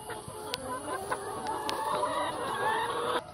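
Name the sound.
chickens clucking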